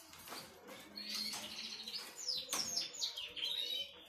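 A pet canary gives quiet, close chirps and short tweeting calls, with several rising and falling notes in loose bursts against a soft background.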